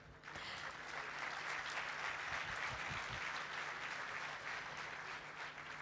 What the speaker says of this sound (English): I think they deserve a rousing applause,